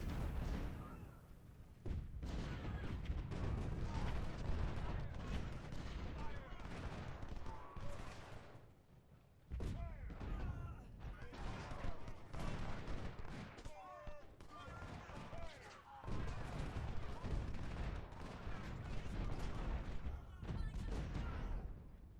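Musket volleys in the Civil War battle game Ultimate General: Civil War, dense rolling crackles of many rifles firing in overlapping bursts, with short lulls, heard under someone talking.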